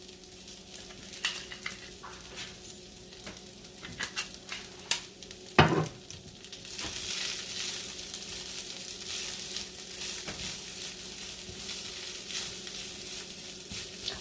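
Steady sizzling and crackling of rice frying with Spam in a small frying pan, with occasional scraping and stirring taps, growing brighter partway through; no talking.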